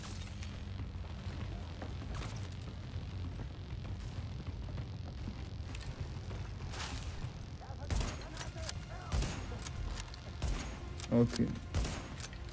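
Gunfire aimed at snipers in The Division, scattered sharp shots and short bursts that grow denser toward the end, heard under players talking.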